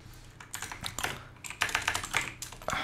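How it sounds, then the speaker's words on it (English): Rapid, uneven clatter of keys on a computer keyboard, close and fairly quiet, with bursts of quick keystrokes and short pauses between them, no talking over it. "I can't type today, this is so fun."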